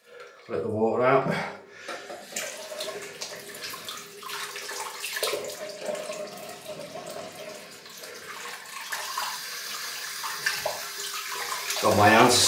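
Water drains from a bathroom sink after shaving, a running, gurgling wash that lasts through most of the stretch, with someone speaking briefly at the start and end and a few clinks nearby.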